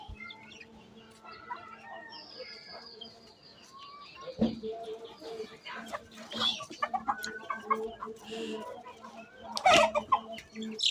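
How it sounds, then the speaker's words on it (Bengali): Several chickens cluck and squawk close by at pigeon feed, with scattered chirps and short calls overlapping in an uneven, busy rhythm. "কবুতরের খাবার খাওয়ার জন্য অনেকগুলো মুরগি এসেছে"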